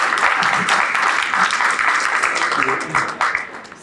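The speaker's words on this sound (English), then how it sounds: "Another round of applause, that's right." An audience at a community meeting bursts into applause, the thick clapping holding strong before thinning out near the end, with a voice faintly audible underneath.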